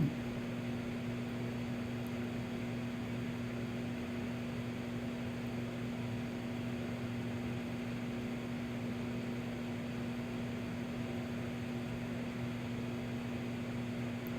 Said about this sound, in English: then it'll go in the microwave. It's about a minute